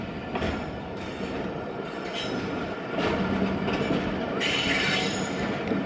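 Tezgam Express passenger train running on rails, a steady loud rumble of wheels and carriages with metallic rattles and a brief high squeal near the end.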